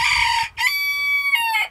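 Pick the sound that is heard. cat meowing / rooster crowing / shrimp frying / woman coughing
rooster crowing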